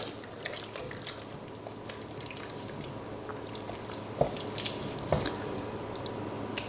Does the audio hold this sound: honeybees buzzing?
no